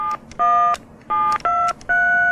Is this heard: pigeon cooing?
no